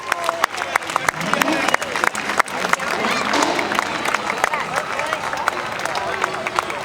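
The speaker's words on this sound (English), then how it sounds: "let's give them a big round of applause right now for the Corvette Club" Crowd at a San Jose Veterans Day parade claps and cheers for the Corvette Club, a broad wash of applause from many people outdoors with scattered louder claps and murmuring.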